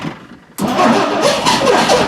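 A 1960 Dodge Dart Seneca with a sticking starter, quiet at first, then the engine cranks and catches with a loud, steady running roar nearby.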